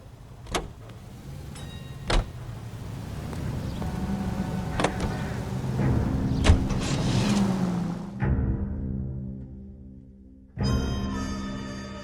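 Car in the video game L.A. Noire: a steady engine drone with door-like thumps and clunks, a sudden cut-off, then the engine and mechanical hum resume abruptly near the end. No talking.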